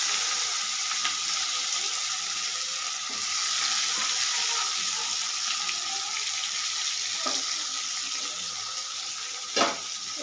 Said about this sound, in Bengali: তেলটার মধ্যে দিয়ে দিলাম একটা তেজপাতা, একটা শুকনো লঙ্কা, তারপরে দিয়ে দিলাম পেঁয়াজ।